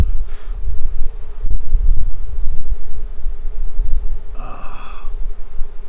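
Honeybees buzzing around frames of larvae during a hive inspection, a steady low drone filling the clip, with a brief louder pass of a bee close by near the end.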